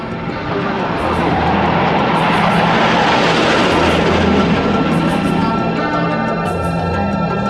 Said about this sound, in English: the Russian aerobatic teams performing on MiG-29 and Su-27